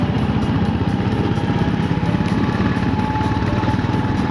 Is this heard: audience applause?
no